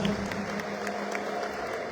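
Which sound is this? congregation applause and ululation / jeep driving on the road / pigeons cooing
congregation applause and ululation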